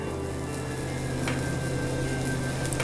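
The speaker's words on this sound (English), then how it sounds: "you can hear that sizzle" Pancake batter sizzling in a hot pan, a steady close frying hiss with faint crackles running continuously throughout.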